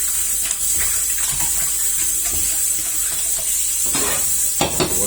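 Sliced meat is washed by hand in a bowl of water, giving a steady close splashing and sloshing with occasional clinks against the container and no talking.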